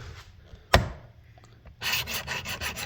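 A broadhead edge is sharpened on a Work Sharp, giving a sharp click, then a quiet pause before a series of close, rasping grinding strokes in a quick rhythm, heard alone.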